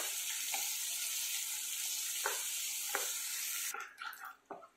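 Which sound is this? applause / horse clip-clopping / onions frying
onions frying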